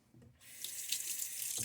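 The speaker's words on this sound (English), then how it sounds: "We're finally getting some lukewarm water." Water starts running from a bathroom tap, a short splash that rises into a steady, moderately loud hiss, with no one talking.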